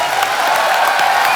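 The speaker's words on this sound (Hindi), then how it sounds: "इरफान भाई के लिए जोरदार तालियां।" Studio audience applause greeting actor Irrfan Khan on a Hindi comedy talk show, a dense, steady wash of clapping that fills the whole short stretch at close, loud level.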